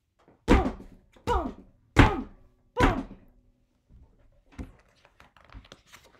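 Four heavy, evenly spaced thumps, like firm stomps on a floor, followed by quieter scattered knocks and light shuffling.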